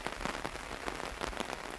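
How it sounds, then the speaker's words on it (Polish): Rain falling steadily on a garden in mid-September, a soft, even patter of drops close by, faint and alone with no voices. "Pada."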